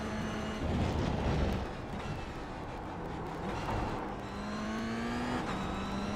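Race car engine in a sim racing game at Laguna Seca during a Rookie Sportscar Cup esports round, a steady droning note that rises through the revs, dips briefly around a gear change, then climbs again, loud and continuous with no talk.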